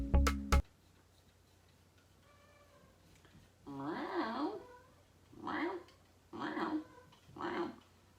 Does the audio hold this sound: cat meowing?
yes